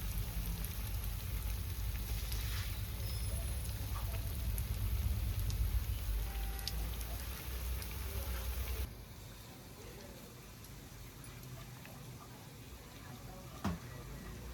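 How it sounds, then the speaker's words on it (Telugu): Rain patters steadily, then abruptly becomes quieter partway through, continuing as a thinner hiss with occasional sharper drips. "ఒకటే వర్షం"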